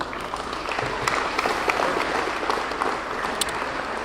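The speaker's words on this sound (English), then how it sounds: "Please give our committee members a round of applause for their hard work and dedication to your Highland Sports Hall of Fame." Sustained, fairly loud applause from an audience honoring committee members at the Highland High School Sports Hall of Fame ceremony, a dense continuous patter of many hands with no talking.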